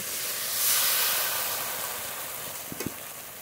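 Spice masala with cashew and poppy seed paste frying in a pan, a steady soft sizzle and hiss that swells briefly early on, ending with a couple of quick utensil taps.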